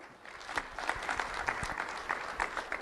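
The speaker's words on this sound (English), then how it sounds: "Round of applause for Jock Duverson" Audience applause for a middle school student honoured at a Lee County Sheriff's Office recognition event, a brief, moderately loud round of clapping from a small crowd.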